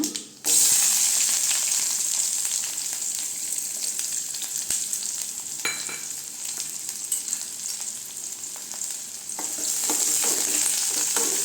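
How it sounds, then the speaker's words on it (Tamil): Onions sauté in a pan with dried red chilies for a radish greens stir-fry, a loud, close, continuous sizzle with occasional stirring scrapes, swelling as they hit the hot oil. "வெங்காயம் நல்லா வதங்கட்டுங்க."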